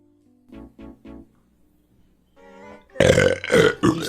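A person lets out a loud, drawn-out burp, preceded by a few short soft voiced pulses and a brief pause, close to the microphone.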